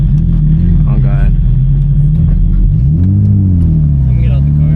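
Engine of a Nissan G35 drift car revving hard and steady, rising and falling in pitch close to the microphone, with a loud continuous roar throughout.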